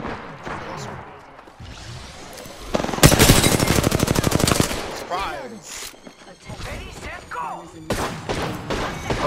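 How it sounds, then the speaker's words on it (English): Rapid bursts of automatic gunfire crackle loudly in Apex Legends, with a sustained volley in the middle and scattered shots around it. "More gunshots coming from someone."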